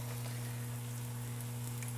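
Fish fillets for crispy tacos frying in oil in a pan over fairly low heat, a continuous soft sizzling hiss with faint crackles over a steady low electrical hum.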